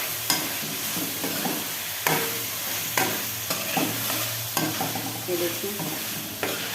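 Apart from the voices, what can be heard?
potatoes frying and being stirred in a pan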